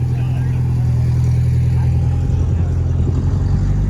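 A Porsche 944 pulls in at the 944 Fest 2022 car show, its engine giving a steady, close, low rumble that continues without a break.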